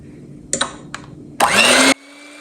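An electric beater whirs into cake rusk batter in a home kitchen, first a few short clicks and knocks, then a loud high-pitched motor burst for about half a second before it cuts off, leaving a faint hum.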